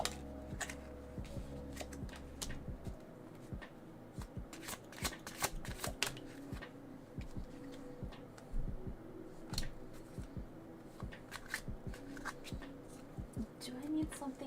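Tarot cards shuffled and handled at close range, a steady run of crisp riffling and snapping card flicks with soft handling noise between them, while a voice speaks quietly now and then over the shuffling.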